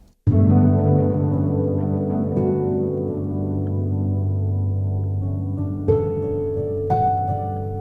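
Sustained piano chords ring out through a Roland chorus echo in a tape simulation, a lush, shimmering wash that swells, holds and shifts to new chords twice, with long echoing tails and no voices.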